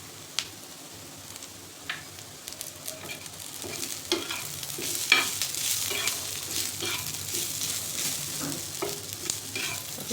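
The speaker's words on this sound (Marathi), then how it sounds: "त्यामध्ये आपल्याला आलं आणि लसूण टाकायचे आणि ते पण कांद्याबरोबर छान परतलं जाईल." Onion with ginger and garlic sautéing in a pan: a continuous sizzle with repeated scraping stirs throughout, fairly close, with no voice.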